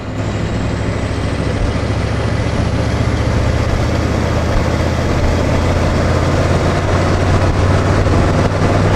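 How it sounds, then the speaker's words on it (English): A non-intercooled 6.9 IDI diesel with a Banks turbo pulls hard in fourth gear at about 10 psi of boost, a loud, steady, close engine drone with turbo whine, heard from inside the vehicle, with no talking. "Do like a little 4th gear pull."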